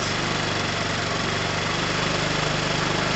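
A moped engine runs steadily at close range, a buzzing, vibrating drone that holds at a constant pitch and level throughout.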